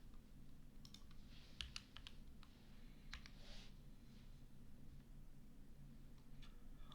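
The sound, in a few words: computer keyboard typing keywords into a search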